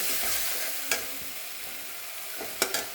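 Onion paste and half tomato paste frying in a pan for a masoor dal dish, giving a steady hiss with a few sharp stirring clinks near the start and end.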